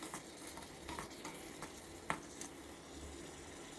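Ginger-garlic paste being stirred into softened frying tomato and onion in a pan, a low steady sizzle under soft scraping and stirring strokes, with one sharper clink of the spoon partway through.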